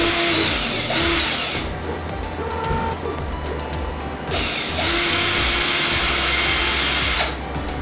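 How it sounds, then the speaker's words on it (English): A power drill drives screws into wood, with several bursts of whirring motor near at hand, each run lasting a second or two between short pauses. "these screws, they should screw in with no issue"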